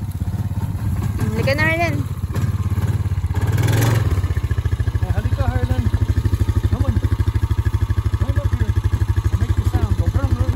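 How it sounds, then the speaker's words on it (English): A four-wheeler ATV engine runs steadily with a low idling, clattering rumble and brief revving near the start, heard close while riding toward a job site on a hiking trail, with a voice speaking briefly over it. "Sakay na kami dyan sa four-wheeler."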